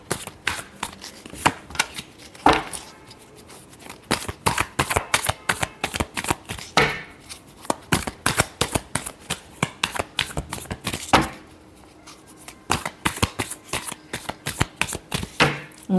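Tarot cards being shuffled in repeated quick riffles and flicks, crisp close-up snaps in an uneven rhythm with brief pauses, no talking.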